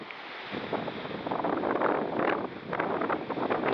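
Strong wind at the Black Sea coast in Anapa during a storm, loud gusty roaring and buffeting against the microphone, rising and falling continuously with no voices.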